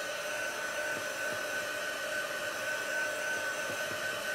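A hair dryer blows steadily on freshly applied chalk paste, giving a continuous, even whoosh with a whine that holds for the whole stretch and no voices.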